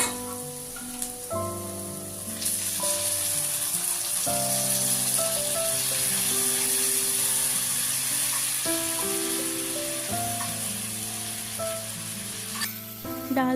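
Boiled dal goes into a pan of sizzling egg masala, setting off a loud, steady, hissing sizzle that lasts throughout, with background music underneath.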